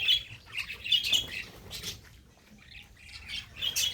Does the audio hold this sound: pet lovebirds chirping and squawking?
yes